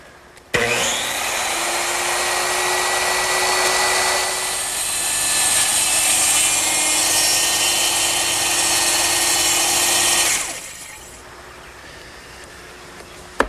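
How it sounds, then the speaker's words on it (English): Circular saw plunge-cutting through a wood panel for a Shaker two-drawer blanket chest, a loud steady whine that starts abruptly, holds for about ten seconds with a slight swell midway, then stops sharply, with no talk. "I'm going to make a plunge cut, which means I'm going to lower the blade through the work and carefully go along the line"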